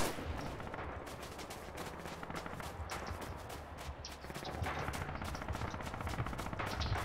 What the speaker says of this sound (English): Someone's been on a machine gun this entire game, and it's getting kind of annoying.